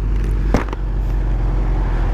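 An old, somewhat ragged Porsche 944 drives past with a steady, loud engine drone, and a brief sharp burst stands out near the middle.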